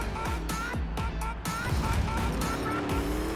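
A monster truck in a freestyle run at a Showdown Champions League stadium event, climbing over crushed cars on a muddy track: a loud, continuous engine roar with rising revs and clattering impacts, mixed with crowd or announcer voices.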